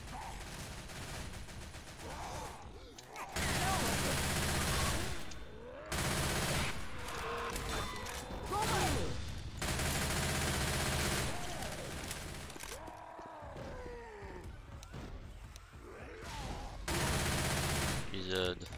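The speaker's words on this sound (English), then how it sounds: "The Uzi's so loud, I can't even tell when I'm hitting him" Uzi fire in Left 4 Dead 2, loud sustained automatic bursts repeating with short gaps between them, close and dense.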